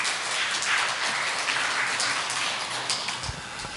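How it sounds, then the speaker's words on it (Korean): Steady applause from a church congregation during Sunday worship fills the whole stretch, a dense, even patter of many hands clapping without pause. "다시 한번 격려의 박수 부탁드립니다"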